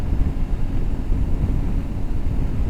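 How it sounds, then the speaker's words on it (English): Steady, loud wind buffeting a rider on an Aprilia Tuareg 660 motorcycle at highway speed, around 64 mph, a constant low roar with no pauses and no talk. "a lot of the wind is being blown right into my face here"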